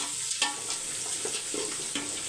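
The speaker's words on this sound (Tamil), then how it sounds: "இப்போ வெங்காயம் வந்து நல்லா வதங்கட்டும்" Big and small onions fry in hot oil with a bright, continuous sizzle close by, punctuated by several soft scraping stirs at irregular intervals.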